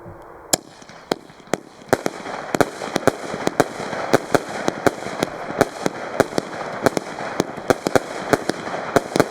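A long rapid series of sharp fireworks shots from a 400-shot Metal Box PXC220 cake battery, evenly spaced loud bangs firing one after another over a crackling, hissing background.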